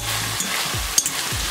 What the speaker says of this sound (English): So now we can just add our potatoes.